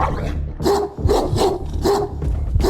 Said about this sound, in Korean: 저 강아지를 피해야 될 것 같은데